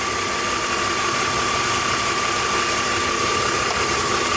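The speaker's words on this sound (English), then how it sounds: "I know the noise is coming from the alternator" A BMW E46 M3 idles steadily and close by, with a constant thin high whine from a faulty alternator sitting above the engine hum throughout.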